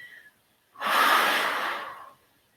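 One long, deep exhale through the nose and mouth during a breathing exercise, close and breathy, rising quickly then fading out over about a second and a half, alone.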